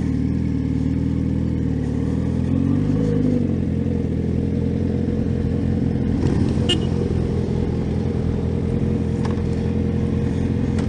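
Race cars and motorcycles roar down the Road Atlanta straight at top speed during a MotoAmerica event, a steady loud engine drone with clattering and revving bursts, heard from trackside with no talk.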